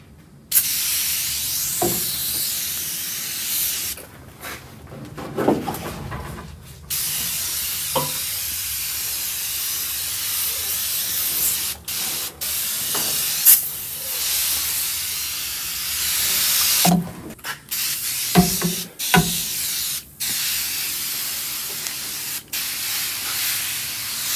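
Cleaner is sprayed onto the windows of a rusted, abandoned 1974 Ford F250 Custom with a 390 V8, in repeated bursts of close hissing spray separated by short pauses.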